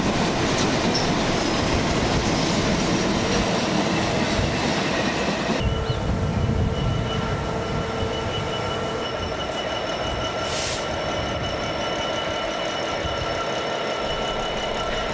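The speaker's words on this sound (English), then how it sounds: "these EWS empties are about to make a rendezvous with that coal stockpile." An EWS train of empty coal wagons rolls past in Britain, a loud continuous rumble of wheels with rail squeal and clatter close by, easing slightly partway through as the wagons keep passing.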